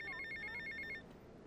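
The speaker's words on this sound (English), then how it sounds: "Shut up, phone, I can hear you." A phone rings in GTA Vice City with a rapid electronic trill of evenly spaced beeps, fairly faint, stopping abruptly partway through, leaving quiet game ambience.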